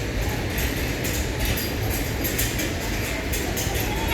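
Train at Katihar railway station in Bihar, a continuous rumbling rail noise with hissy, busy platform background throughout.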